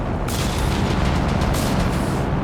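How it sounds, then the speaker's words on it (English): Heavy artillery barrage landing in Company of Heroes 3, a dense continuous rumble of booming blasts filling the whole stretch, loud and sustained with no clear gaps between impacts. "The recon artillery coming down now."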